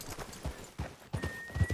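Horse hooves clip-clop at a steady walking rhythm in the video game Red Dead Redemption 2, close and fairly loud. There is faint ambient noise behind the steps.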